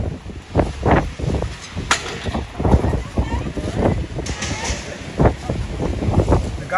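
Strong cold-front gusts sweep a city sidewalk outside a restaurant's cafe seating, roaring and buffeting close against the microphone in uneven surges, with sharper bursts as loose fixtures are blown about.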